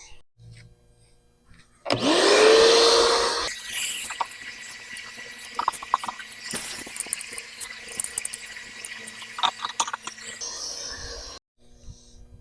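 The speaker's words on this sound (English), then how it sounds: "I'm gonna vacuum some of this stuff out of here" Shop vacuum sucking debris out of a seized hot tub pump housing, a loud roaring burst lasting under two seconds, then quieter rattling and motor hum with scattered clicks.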